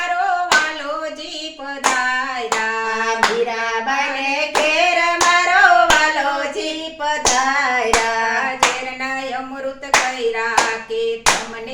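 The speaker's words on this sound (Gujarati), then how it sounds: "હાથે તાળી પાડો હાથમાં જોર છે કે નહીં" Hands clapping in steady rhythm along to a Gujarati devotional bhajan, sharp close claps punctuating a sung melody throughout.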